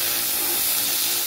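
An Everlast 301 laser cleaner firing gives a steady, loud, broadband hiss like rushing steam, continuous and close with no voices over it.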